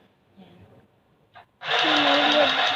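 A portable sewing machine running its bobbin winder to gather thread, starting abruptly after a few faint handling clicks and holding a steady, loud motor whir with a rising tonal hum to the end.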